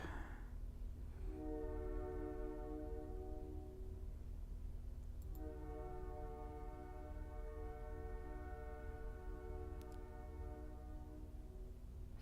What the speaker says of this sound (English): that lousy train, it's making it hard for me to concentrate